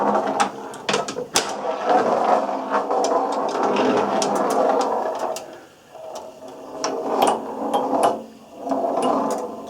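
1933 Silver Cup pinball machine with a ball in play: rapid irregular metallic clicks and knocks over a rolling rattle, close and loud, surging and easing in bursts.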